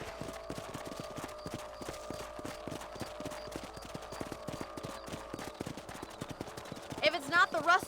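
Horses ridden in the Red Dead Redemption video game clip-clop in a steady galloping rhythm throughout, with a brief louder burst of other game sounds toward the end.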